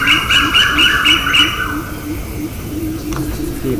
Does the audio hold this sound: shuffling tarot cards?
no